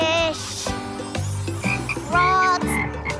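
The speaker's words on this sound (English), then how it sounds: "Frogs." Cartoon frogs croaking in a lake scene, a quick series of loud, close, rubbery croaks repeating in uneven rhythm over soft background music.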